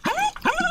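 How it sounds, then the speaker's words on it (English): A dog gives two quick rising whimpering yips, high and whiny, close by with no talk over them. "Look at this cute dog, what she's doing."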